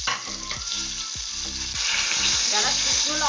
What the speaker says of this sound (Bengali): তেল গরম হয়ে গেছে, এবারে আমি এই জিরেটা ফোড়নে দিয়ে দিলাম আর দিয়ে দিলাম তেজপাতা